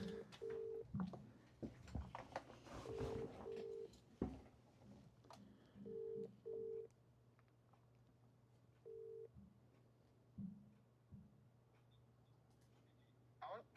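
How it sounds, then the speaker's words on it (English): A telephone number dialed on a keypad, with short steady tones pressed one at a time in an uneven sequence, faint and close, with a few clicks and low hum. "I'm just going to dial his number."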